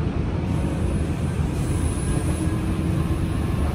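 A Hanshin Main Line local train running along the track, a steady loud rumble of wheels on rails with a faint high squeal, heard from on board with no voices.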